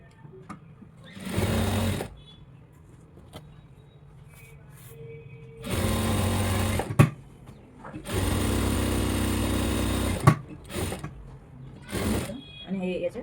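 An electric sewing machine stitches fabric in several bursts of steady, rapid whirring, each lasting one to two seconds, with quiet gaps between them and a person talking softly in the background.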